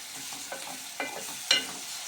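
Ginger-garlic paste frying in a pan while being stirred, with a steady sizzle throughout and three sharper scraping strokes of the spoon at roughly half-second intervals; close and moderately loud, with no talking.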